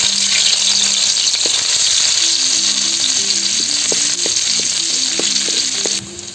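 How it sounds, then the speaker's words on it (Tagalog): Garlic sautéing in a pan for a sweet chili sauce: a loud, steady close-up sizzle with light knocks and scrapes of a utensil stirring, then the hiss drops slightly at the end, with no talk. "Bawang, gigisa natin."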